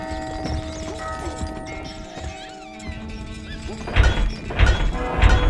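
Horse hooves galloping in the strategy game Stronghold Crusader, heavy thudding hoofbeats that grow louder in the second half, layered over game music tones with a whinny and crashing impacts.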